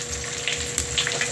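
Bath crackles dropped into bath water fizz and pop, giving a loud, close, continuous hiss of crackling and bubbling with scattered sharper snaps over about a second.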